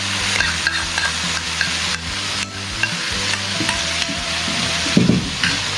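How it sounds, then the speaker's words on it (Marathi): Manchurian sauce is stirred in a hot pan for a street-style veg dry Manchurian, giving steady scraping and sizzling with repeated spoon strokes, loud and close, and no voices. "त्याला छान मिक्स करतो आहे."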